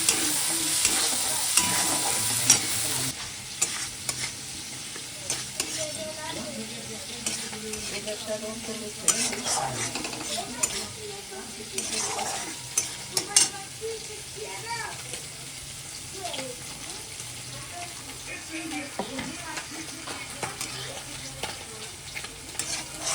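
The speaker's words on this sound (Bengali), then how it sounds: "এই চিংড়ি মাছটা ভেজে নেওয়া হচ্ছে" Prawns fry in a pan with a continuous sizzle that runs throughout, while a utensil stirs and scrapes them and a voice speaks intermittently over the cooking.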